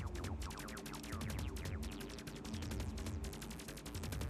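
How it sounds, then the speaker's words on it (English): Rapid laser rifle fire from Fallout, many quick zapping shots in a steady near-continuous stream, loud and close, with no talking. "that laser rifle's actually putting in a lot of work"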